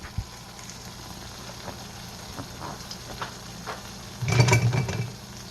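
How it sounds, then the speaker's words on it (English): Oil bubbling in a pan as food browns on the bottom: faint scattered sizzles and pops, then a louder burst of crackling bubbling near the end, with no talking. "So as it kind of bubbles, it's gonna start turning brown on the bottom."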